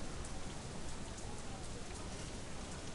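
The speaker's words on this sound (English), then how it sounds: "Foul, oily water rains down from above." Steady, dense rain pours down without a break, a broad hiss that fills the whole stretch at constant loudness, from the rain-soaked streets of the Shadowrun: Hong Kong video game.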